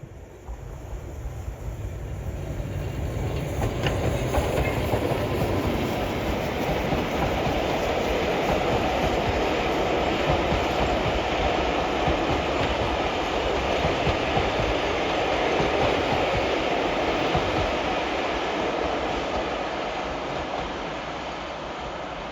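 A Black Five steam locomotive runs downhill on a heritage railway in the North Yorkshire Moors, a steady rumbling roll of train and carriages with faint clickety-clack, rising quickly and holding loud and close for the full stretch.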